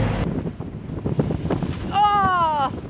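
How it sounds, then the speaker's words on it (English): A strong 25-knot headwind hits a sailing boat at sea, with gusty wind rumble and thumps against the microphone. Near the end, a brief high whistling tone rises over the wind. "We have currently 25 knots of wind blowing right in our nose,"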